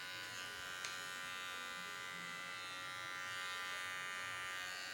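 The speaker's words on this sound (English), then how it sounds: "here now I'm using the only machine, no guards" An electric hair clipper running with no guard attached and the lever partly open while cutting a mid skin fade, giving a steady, close, continuous buzzing hum through the whole stretch with no talking over it.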